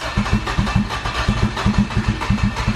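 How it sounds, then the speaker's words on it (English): A sleeved Honda GSR B18 engine cranks and stumbles, with close, loud, uneven pulsing bursts in a choppy rhythm that fails to settle into a steady idle. "Crank it without some gas, and then don't be scared to crank it for a while."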